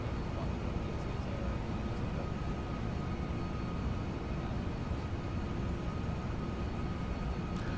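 A Boeing 747 airliner in the Prepar3D flight simulator rolls for takeoff, its steady, loud engine roar broad and continuous throughout with no talk over it.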